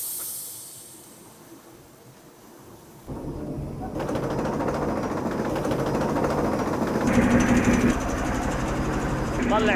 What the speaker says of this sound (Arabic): مرحلة التجفيف، ماكينة مخصوصة لتجفيف السجاد